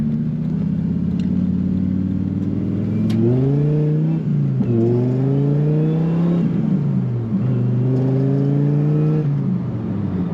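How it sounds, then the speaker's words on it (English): A supercharged 2001 Dodge Viper GTS coupe with a six-speed manual accelerating on the road, its deep engine rising in pitch through several gear changes, each shift dropping the note before it climbs again, loud from inside the car. "Let's see how she feels on the road."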